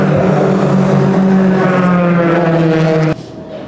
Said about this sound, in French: C'est des vraies voitures de course.